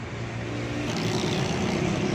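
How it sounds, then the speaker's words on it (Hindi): A car engine runs with a steady, moderately loud idle during brake bleeding work on the vehicle. There is no talk. "गाड़ी को स्टार्ट करेंगे।"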